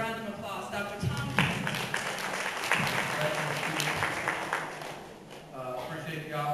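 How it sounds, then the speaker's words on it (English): A school board meeting audience gives a round of applause, a moderate wash of clapping that fades near the end, with people speaking around it. "Let's give him a round of applause, Dr. Tom."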